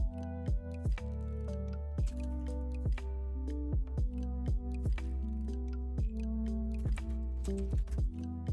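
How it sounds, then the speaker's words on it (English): Keys clack in quick, uneven bursts on a keyboard, close and crisp, with short pauses between runs of typing. "You can really hear my typing."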